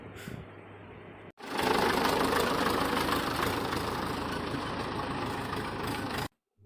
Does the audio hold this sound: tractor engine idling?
yes